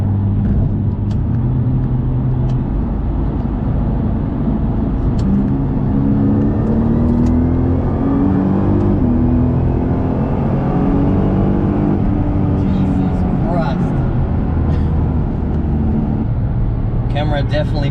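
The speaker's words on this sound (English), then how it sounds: "I have the opportunity to drive a 35 GTR. Wow, what a quick car." A stock pearl-white Nissan GT-R R35 accelerates hard, heard from inside the car; the engine note climbs steadily in pitch through the gears under a constant loud road and wind roar.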